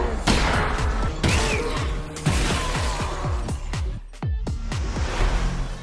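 Repeated sharp weapon blasts from aliens being shot in the Half-Life VR game, coming in a rapid, irregular series of loud close impacts with crashing, shattering effects between them.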